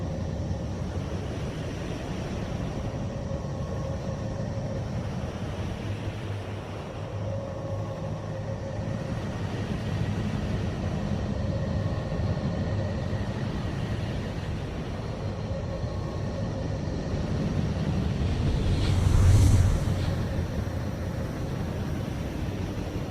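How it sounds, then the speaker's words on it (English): A spacecraft radio-signal recording of the planet Neptune, heard as a steady, dense, ocean-like rumble and hiss with faint tonal hums, swelling briefly near the end, with no voices. "Neptune sounds like a vast, desolate ocean."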